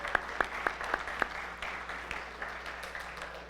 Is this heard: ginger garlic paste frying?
no